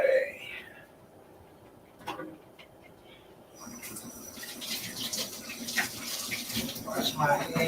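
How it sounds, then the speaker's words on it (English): Running tap water splashing as hands are washed under a faucet, starting after a quiet stretch and continuing steadily, close by, with a brief faint voice early on. "Wash my hands."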